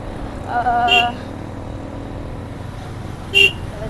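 Traffic noise on a busy road with a passing motorcycle or car rumbling steadily, two short horn toots cutting through near the start and end, and people talking over it.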